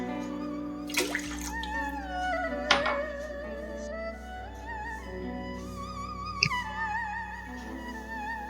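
Water is poured into a cooking pan for sticky rice, a soft running and splashing stream with a few brief clinks and bumps, heard close and fairly quiet.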